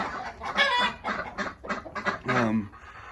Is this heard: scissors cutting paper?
no